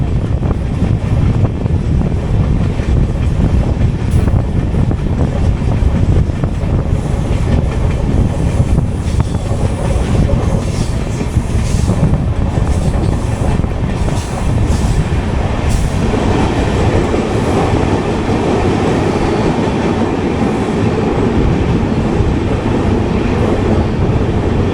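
The Kondaveedu Express runs on the Yesvantpur to Guntur route, heard from on board as a loud, continuous rumble of wheels and carriages with wind noise, steady for the whole stretch and without talk.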